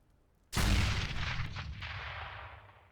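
A single loud gunshot rings out in CS:GO during a pro match between Optic Gaming and Cloud9, and its heavy report decays slowly over a couple of seconds.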